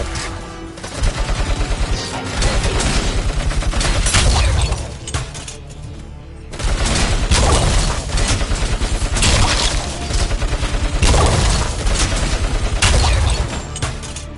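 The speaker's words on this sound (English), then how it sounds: "I'm gonna keep using this gun" Rapid, loud gunfire rattles almost nonstop from a gun in a RoboCop video game, with dense bursts and a brief lull before firing resumes.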